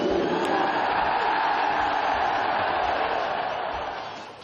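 Dense football stadium crowd roaring and cheering at a goal from Cruzeiro against Corinthians announced over loudspeakers, a broad sustained wall of massed voices that stays loud throughout and fades slightly near the end.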